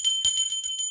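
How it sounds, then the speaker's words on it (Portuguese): Bright notification bell jingle, a short run of tinkling chimes repeating quickly across one second, clear and upfront with no voices. "Tocar o sininho pra ativar as notificações"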